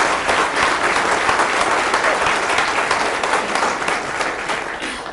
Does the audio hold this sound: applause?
yes